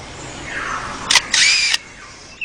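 A lyrebird in the forest imitates a camera with a motor drive, a rising whine followed by a burst of rapid mechanical clicks and whirring, close and loud, then quieter ambience.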